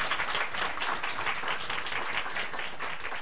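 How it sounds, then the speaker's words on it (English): Audience at a panel discussion on funding for minority business owners gives a sustained round of applause, dense even clapping that holds at a steady level for the whole stretch with no voices over it. "So please give that a round of applause."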